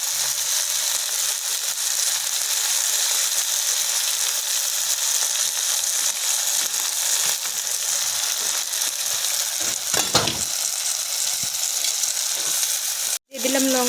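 Chili and coriander powder frying in oil in a pan, heard as a steady dense hiss and crackle throughout, with a brief scrape near the end and no clear voices.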